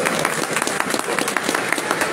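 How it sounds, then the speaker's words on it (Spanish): Steady applause from a crowd fills the room, a dense patter of clapping at even strength throughout. "Aplausos para las campeonas."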